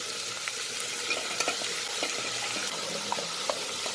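Garlic, ginger and tomato sizzling in a pan for butter chicken, a steady frying hiss with occasional spatula scrapes and clicks as the mix is stirred.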